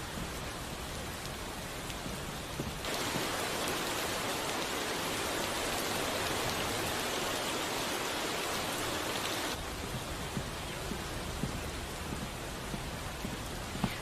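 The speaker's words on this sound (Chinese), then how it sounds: "快，下雨了，好像。" Steady rain falling outdoors, a dense even hiss with no breaks that swells noticeably louder in the middle stretch before easing back, with no voices.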